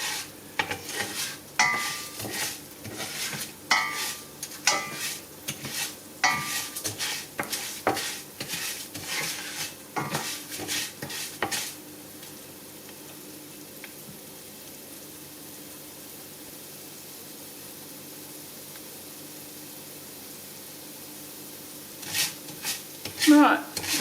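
Rice frying in a pan as it turns golden brown, stirred with a utensil: repeated scraping strokes over a low sizzle for about twelve seconds, then a quiet stretch and a few final scrapes near the end.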